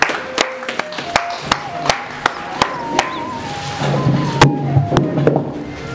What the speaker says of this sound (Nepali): जोरदार सम्मान साथ ताली दिनुहुन्छ